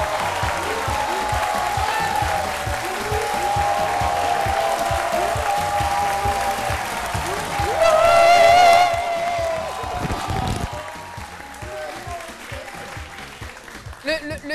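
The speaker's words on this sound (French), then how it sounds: "Le fan club n'a vraiment pas lésiné sur les wouhou et les applaudissements." A studio fan club in a Côte d'Ivoire TV talk show applauds steadily with whoops and cheers, swelling into a louder burst before tapering off, partly under speech.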